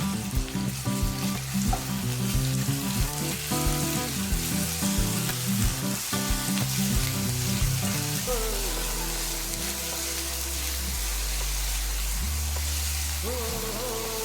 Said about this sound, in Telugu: ఒక మూడు స్పూన్లు అల్లం వెల్లుల్లి పేస్ట్ ఉంటుందండి ఇది కూడా బ్రౌన్ కలర్ వచ్చే వరకు ఇప్పుకోవాలి